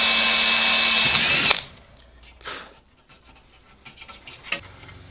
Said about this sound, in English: that little cross right there is where I should be able to drill and hit the hole directly